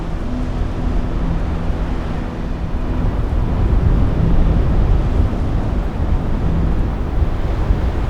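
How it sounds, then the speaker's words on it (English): Strong wind blows on a Dublin mountainside and buffets the microphone in a loud, continuous, rumbling roar. The gusts swell toward the middle, and no one speaks. "That wind's really picking up, isn't it?"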